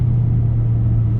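A truck with an Allison transmission accelerates hard at about three-quarter throttle, giving a steady, loud, low engine drone and rumble that holds even throughout the short stretch, with no voices.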